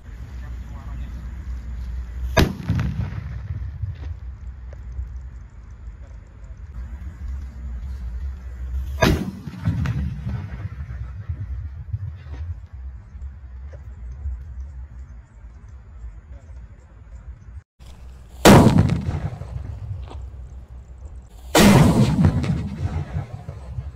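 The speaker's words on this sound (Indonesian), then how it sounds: "Mercon banaspati level 5 guys, jumbo ini. Kita dengarkan suaranya ya." Several loud, sharp blasts spaced apart, each booming with a metallic ring, over steady background noise: a jumbo Banaspati level 5 firecracker exploding under a metal Pertamina drum, blowing the drum open.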